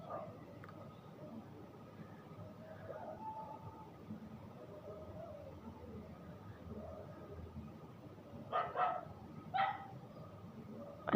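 A dog barks a few times in a short burst toward the end, somewhat distant, over a low murmur of background voices and ambient noise.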